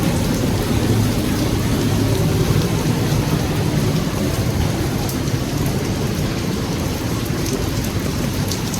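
Heavy rain pours down continuously, a dense, loud hiss of drops with a low rumble underneath, no voices.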